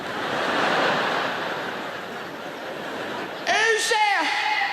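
A comedian on stage vocally imitates a refrigerator's sudden middle-of-the-night noise: a short, wavering, strained vocal sound that bursts out near the end after a long wash of audience noise.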